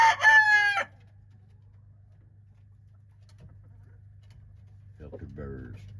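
A rooster crows loudly and close at the very start, followed by a long stretch of steady low hum with near silence, then some harmonic clucking or vocal sound from the chickens near the end, outdoors on a cold winter day.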